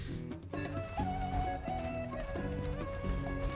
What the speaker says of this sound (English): Oh, they actually brought the horse.